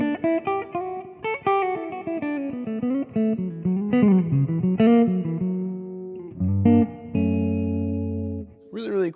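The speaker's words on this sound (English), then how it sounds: "I could also increase the amount of reverb we hear" Electric guitar played through a Boss Katana amp head with reverb and modulation effects, a run of picked notes and chords with a shimmering, wavering tone and reverb tails, then sustained chords ringing near and loud.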